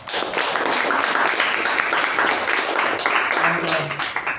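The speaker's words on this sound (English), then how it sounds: "I think she should be given a round of applause" Members of a Toastmasters club meeting clap for a ribbon winner in a modest, steady round of applause, with a voice talking over the clapping.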